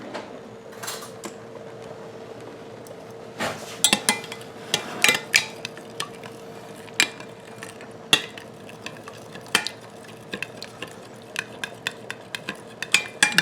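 A sauce seasoned with nutmeg for baked macaroni and cheese being stirred in a pot, with repeated clinks and scrapes of the utensil against the pan over a low steady hum, close by.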